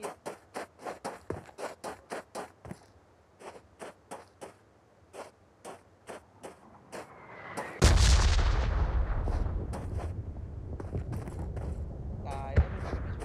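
Rapid bursts of gunfire crack in quick, evenly spaced sequence in a video game, then a heavy blast erupts into a long, loud roaring rumble that slowly decays, with a sharp shot near the end.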